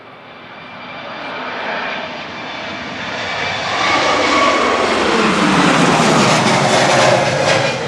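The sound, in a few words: Royal Jordanian airliner departing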